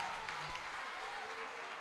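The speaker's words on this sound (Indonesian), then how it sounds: "tepuk tangan untuk Bang Andi ya." An audience at an Islamic boarding school talk show applauds, a dense continuous patter of clapping heard briefly and fairly faintly.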